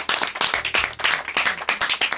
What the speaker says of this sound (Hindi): तो जोरदार तालियां मनोज जी के लिए।